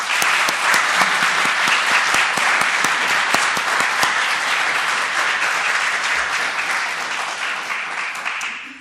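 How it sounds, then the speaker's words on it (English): An audience at a formal ceremony welcoming new heads of mission applauds loudly and continuously, dense clapping with sharp individual claps standing out, tapering slightly toward the end. "Applaudissons encore une fois les nouveaux chefs de mission."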